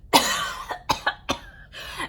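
A series of sharp, close coughs, four or five bursts in quick irregular succession with brief pauses between.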